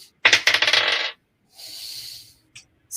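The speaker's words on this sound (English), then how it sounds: "what dice you want Liz to roll then" A twenty-sided die rolled during a tabletop role-playing session gives a quick burst of hard clattering rattles for about a second, then goes quiet apart from a soft hiss.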